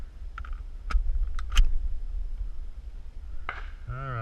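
12-round magazine being fitted into a Vepr 12 shotgun, a few sharp metallic clicks and clacks close by, followed by someone speaking.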